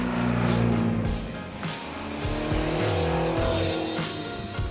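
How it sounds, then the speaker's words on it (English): Small vintage French two-cylinder sports car engines buzz and rev loudly at the Tour Auto roadside, their droning tone rising and falling as they pass close by. "These light French sports cars with their bicylinders and characteristic sounds delighted the roadside spectators."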